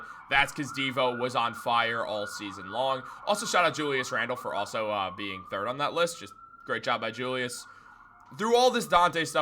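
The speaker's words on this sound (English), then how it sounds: "if you hear that siren outside" An emergency siren wails outside, a steady tone running faintly beneath continuous close speech throughout.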